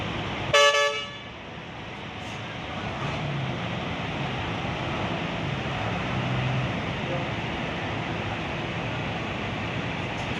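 At the Purabaya bus terminal in Surabaya, one sharp bus horn blast sounds right at the start, followed by a steady low rumble of idling buses and terminal traffic.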